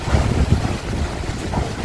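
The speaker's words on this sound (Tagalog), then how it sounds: "Lakas ng hangin." Strong typhoon wind roars and buffets the microphone outdoors near trees, with steady loud rushing noise and low thumping gusts throughout, no voices.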